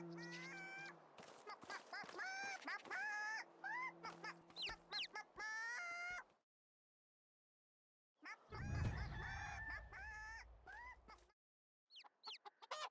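Chickens cluck in the Medieval Dynasty video game, a run of repeated clucks and squawks across the first six seconds, then after a pause another burst over a low rumble and a few faint calls at the end.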